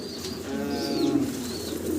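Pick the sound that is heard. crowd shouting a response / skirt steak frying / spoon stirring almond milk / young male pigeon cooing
young male pigeon cooing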